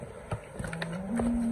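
Cows on a rural pasture mooing: a low, drawn-out moo that rises in pitch and swells near the end, with scattered rustling and outdoor noise around it and no speech.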